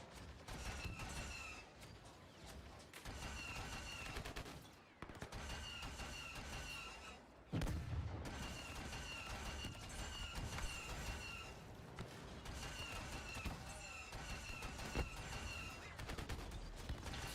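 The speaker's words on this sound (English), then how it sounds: "Is he shooting at me?" Rapid blaster-style gunfire in Star Wars Jedi: Fallen Order, sustained bursts of repeated shots with a few brief gaps, steady and moderately loud against a busy game background.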